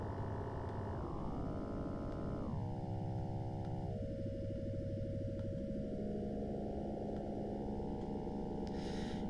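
Sustained synth tones in a Swarmalators patch, run through a distortion effect that roughens them, with stepped pitch shifts across several seconds and a dense, buzzy, continuous texture.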